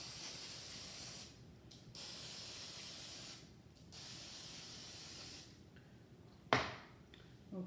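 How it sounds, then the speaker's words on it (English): Three hissing bursts of aerosol cooking spray onto a pan, each lasting a second or so, followed by a sharp clatter near the end; close, with no talking. "while it's in the pan like this, we can just give it a little spray."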